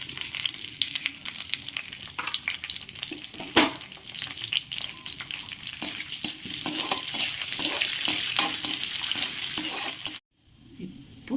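Cinnamon, cloves, bay leaf and vadagam crackle in hot oil for a chicken gravy, a bright continuous sizzle with frequent spoon scrapes and clinks, cutting off abruptly near the end.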